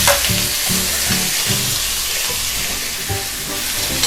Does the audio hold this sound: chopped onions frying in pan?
yes